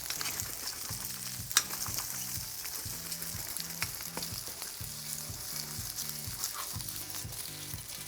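Garlic shrimp crackle and sizzle steadily in a very hot pan, a close, continuous frying hiss with small pops, over a soft, repeating low musical backing.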